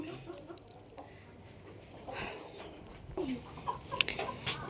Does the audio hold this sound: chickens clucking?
yes